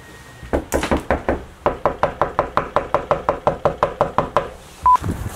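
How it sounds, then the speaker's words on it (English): Knocking on a locked door at a rehab rental property in Toledo, Ohio: a long run of steady, evenly spaced hard knocks, about twenty in a row, loud and close, with no talk. "Yeah, knock and see."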